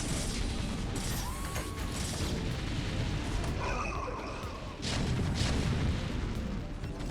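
Tank artillery pounds away during a StarCraft battle, repeated booms and blasts layered over dense mechanical rumble and clatter, loud and continuous with no talking.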